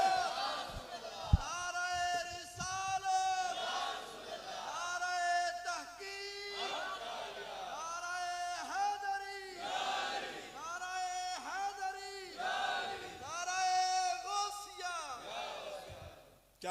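At a religious gathering, a large crowd shouts the slogan Naara-e-Takbeer in repeated loud, rhythmic bursts of massed voices, each call ringing out and fading before the next, with brief pauses between the chants.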